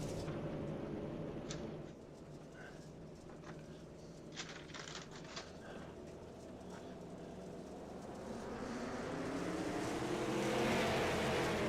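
Race cars in the iRacing sim pull away together to start heat two of a grass-roots series, a steady layered engine drone that swells louder toward the end, with no talking.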